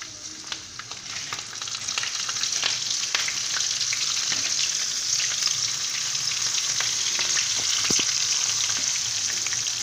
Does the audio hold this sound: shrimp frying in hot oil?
yes